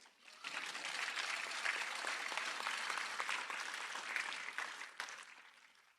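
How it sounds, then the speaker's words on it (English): An audience claps at a DeKalb County Fire Rescue recruit graduation. The applause is dense and sustained, heard from a distance in a large hall, swelling in and tapering off near the end. "Now you can clap."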